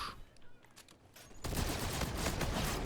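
A new weapon fires in rapid automatic bursts in the multiplayer beta of the video game Call of Duty: Infinite Warfare. Dense, loud fire starts abruptly about halfway through after quieter clicks and handling sounds.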